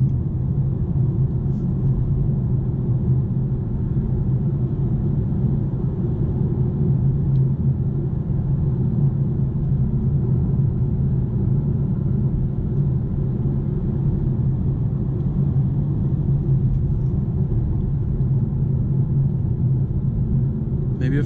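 A Volkswagen Golf drives along with a steady, continuous low engine and road rumble heard from inside the car. The sound stays even and unbroken throughout, with no clear revving.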